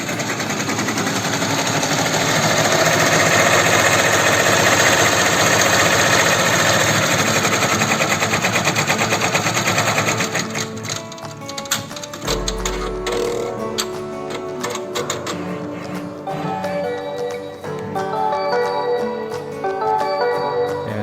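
An automatic embroidery machine runs with a dense, loud mechanical whir for about ten seconds, then shifts to a rapid, uneven ticking and clatter of stitching at close range.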